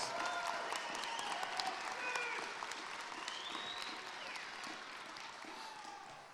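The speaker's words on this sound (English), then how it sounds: "Can you give yourselves a big round of applause?" A graduating high school class cheers and applauds themselves at their 2021 ceremony, a sustained crowd of clapping with whistles and whoops over it, moderately distant and steady throughout.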